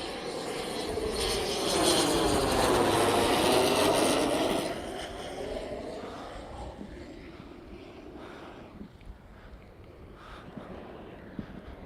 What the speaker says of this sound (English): Oh yeah, that beautiful plane.